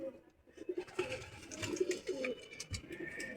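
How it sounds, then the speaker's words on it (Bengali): A dove sitting on eggs in a pigeon loft at night gives soft, low coos in a short series, close by, with faint rustling and a murmur of other birds around it. "ঘুঘু ডিম নিয়ে বসে আছে।"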